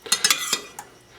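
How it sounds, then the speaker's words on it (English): A utensil stirs red wine sauce in a metal pan, making a handful of quick, light clinks and scrapes close by, with quiet gaps between them. "We will take about half of this and stir it into our sauce here."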